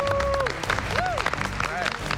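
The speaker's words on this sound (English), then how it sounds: "Give yourselves a round of applause." Contestants on a cooking competition show clap for themselves in a studio, a steady burst of applause running the full two seconds while voices call out over it.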